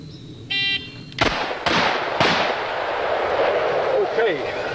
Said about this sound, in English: And again, those were all aimed shots.